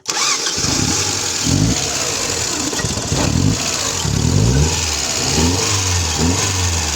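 A Mazda 626 engine cranks and catches, then revs repeatedly in surging bursts, loud and close with a throbbing idle between throttle blips.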